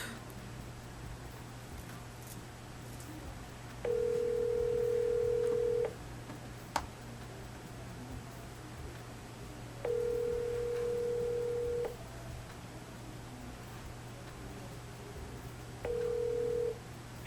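A phone call rings unanswered, with three long steady ringback tones spaced several seconds apart over a faint background hum and no one picking up.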